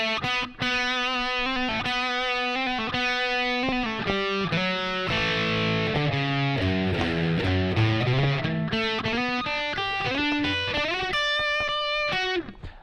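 An electric guitar plays a phrase from a song, a run of clear sustained notes with a slide and a descending then rising melodic line, played alone without talking.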